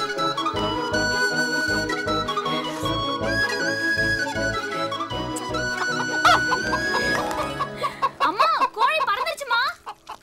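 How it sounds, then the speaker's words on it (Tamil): A chicken in a Tamil film scene clucks and flaps its wings near the end, with bright, wavering squawks rising over a dense, steady music score. "என்னது கோழி பறந்துருச்சா?"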